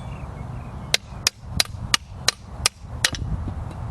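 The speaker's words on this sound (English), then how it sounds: "Again, take my hammer," A hammer strikes a ball joint held in a Harbor Freight ball joint press, giving eight sharp metallic knocks at a steady, even pace, close and loud.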